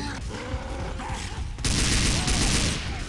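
Sniper rifle shots fired at the Tank in the video game Left 4 Dead 2, a dense burst of loud gunfire that swells louder halfway through amid chaotic game noise.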